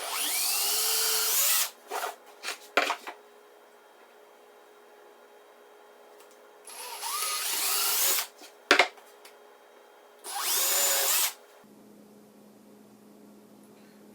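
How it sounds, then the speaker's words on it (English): A power drill with a 1/8 inch bit bores through wood in three loud whining bursts of a couple of seconds each, separated by quiet pauses and small handling knocks. "I'm going to just drill right through with a 1/8 inch bit"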